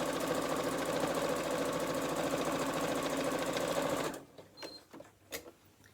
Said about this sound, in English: I'm just going to sew across that panel once more.